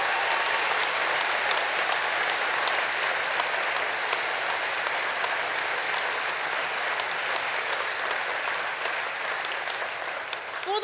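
A graduation audience of the Portsmouth School of Architecture and School of Art and Design applauds the mature graduates with sustained, dense clapping that holds steady for about ten seconds.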